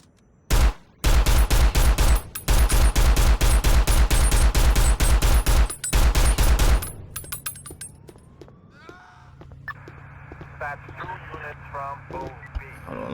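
Rapid pistol gunfire in Grand Theft Auto IV on PC, a long run of loud, evenly spaced close shots with brief pauses, then quieter game ambience and faint talk.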